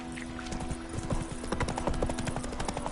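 Galloping horse in The Witcher game, quick rhythmic hoofbeats close by with a faint whinny over a steady low background hum.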